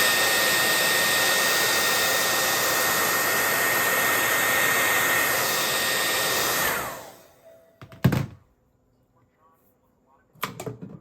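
A hair dryer blows steadily and loudly over wet acrylic paint for about seven seconds, then switches off and winds down, leaving near silence broken by a couple of brief knocks.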